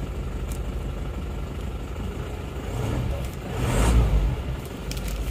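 An Isuzu Panther L 1740 diesel engine idles roughly during repair, a low uneven rumble that swells briefly as if revved, with a person talking over it.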